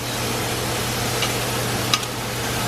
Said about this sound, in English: I'm caramelizing some onion